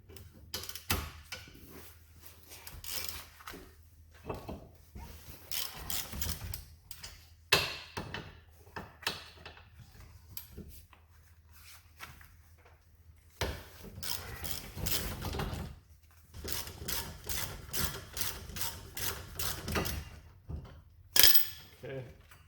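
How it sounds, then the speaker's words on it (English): Wrench and tool clatter while unbolting a brake hose bracket on a Honda Civic front suspension, with irregular close metallic ticks, clinks and rattling bursts over a quiet background. "Go ahead and unbolt this brake hose bracket first"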